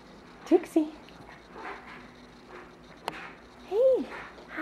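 A pet dog gives a few short, high whimpers close by, two quick ones then a longer whine, with faint sniffing and soft rustles outdoors in the snow between them.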